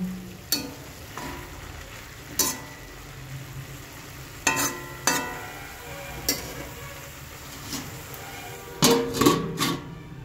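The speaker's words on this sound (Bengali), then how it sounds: "ঢাকনা খুলে অঙ্কুরিত ছোলাটা দিয়ে দিচ্ছি, দিয়ে ভালো করে নেড়ে চেড়ে নেবো।" Sprouted chickpeas are stirred into frying greens in a pan: a spatula scrapes and knocks at irregular intervals over a soft continuous sizzle, ending in a cluster of quicker stirring strokes.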